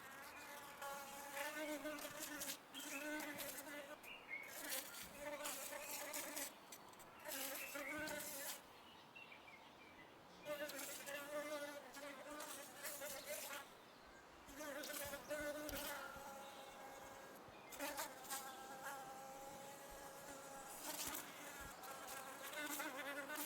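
Honeybees buzz steadily around a hive in an apiary in June, a dense droning hum of many wings rising and falling close by throughout.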